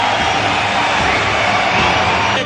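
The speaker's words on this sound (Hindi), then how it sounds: "तालियां इस बात पर भी बजी" A huge crowd at Madison Square Garden applauds and cheers for Modi, a dense, loud, continuous roar of clapping and voices filling the space without a break.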